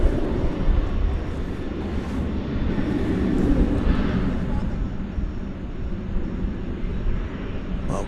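An airplane at DFW Airport gives a steady, broad engine roar that swells slightly and then holds, heard from some distance and continuing throughout without a break.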